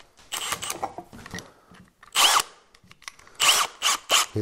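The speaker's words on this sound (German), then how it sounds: "Dann brauche ich die Bohrmaschine." A power drill whirs in several short bursts of varying length, close by, separated by brief pauses and small handling noises.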